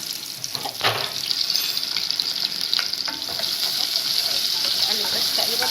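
Diced onion and crushed garlic frying in butter and oil for a seafood soup, a steady close sizzle with occasional scraping stirs and clinks, no talk.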